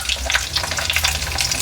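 Grated coconut frying in a pan gives a close, steady crackling sizzle with light stirring scrapes, loud and continuous, with no talking.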